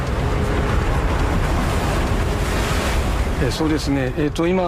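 Ocean waves surge loudly against a sea barrier wall built to protect a city, a continuous roaring wash with heavy wind noise, and a voice starts speaking near the end.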